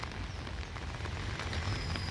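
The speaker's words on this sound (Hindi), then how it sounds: "इस टाइम इत बारिश होया लगी," Light rain falls beside the swollen Jhelum River near Pantha Chowk in Srinagar, giving a soft, steady patter and wash that stays constant throughout with no voices.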